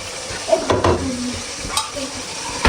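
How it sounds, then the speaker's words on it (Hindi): Onions browning in a pot sizzle under a steady frying hiss, with occasional stirring scrapes and clinks close by; no one speaks. "यहाँ पे प्याज मैंने अपना ब्राउन करने रख लिया है"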